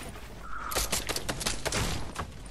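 A burst of rapid gunfire in a shooter video game, a quick string of sharp, loud cracks fired in close succession, with a faint voice briefly heard before the shots.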